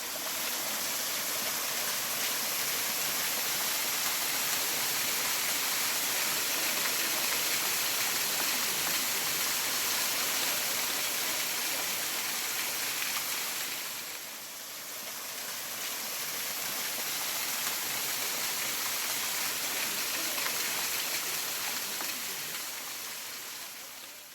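Waterfall on the Netravati Peak trek, a dense, steady roar of rushing water close by that briefly dips around the middle before swelling again, with no voices.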